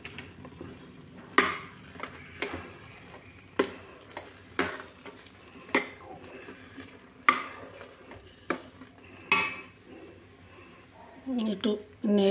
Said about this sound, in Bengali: একটু নেড়ে নি, গরম হোক।